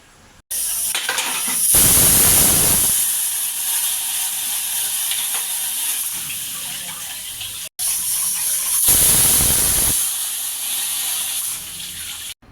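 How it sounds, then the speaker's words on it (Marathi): A pressure cooker boiling vegetables for pav bhaji whistles twice. Each time, a loud, sharp burst of escaping steam gives way to a sustained hissing release, with no talking. "आता आपण मस्त अशा कुकरच्या 2 शिट्ट्या काढूया"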